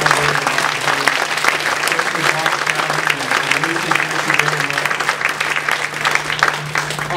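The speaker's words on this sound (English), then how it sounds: "Let's have a round of applause for Dr. Sonnenberg." Audience at a public forum on a GP pipeline applauding Dr. Sonnenberg, a steady dense round of clapping lasting the whole stretch, with a low steady hum beneath and a murmur of voices mixed in.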